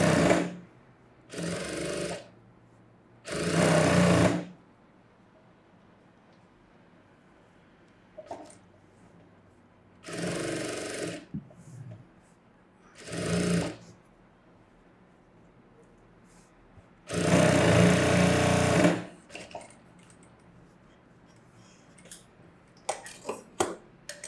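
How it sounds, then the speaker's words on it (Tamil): A sewing machine stitches a blouse seam in several short, loud mechanical bursts of rapid whirring, separated by quiet pauses. "இதில் மட்டும் தையல் போட்டோம்னா நல்லா நீட்டாக இருக்கும்."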